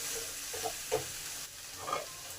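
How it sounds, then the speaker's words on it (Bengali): Chicken gets stirred through its gravy in a pan for Bengali chicken jhol with potatoes, a few soft scraping strokes of the spoon over a low steady sizzle, close and quiet. "ভালো করে চিকেনের গায়ে চিকেন গ্রেভিটাকে লাগিয়ে দিই।"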